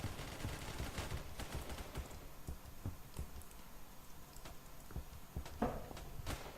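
Rapid automatic gunfire in the Roblox shooter Phantom Forces rattles in quick bursts, with several sharp isolated shots between them, all faint and fairly distant.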